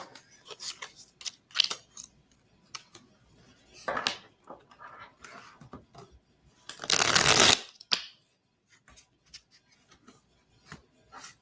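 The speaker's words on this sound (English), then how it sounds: "So I'm going to pull a card for you" Labyrinthos Golden Thread Tarot cards shuffled by hand, a run of crisp riffling bursts and scattered taps, with one loud dense riffle near the end standing out from softer card handling.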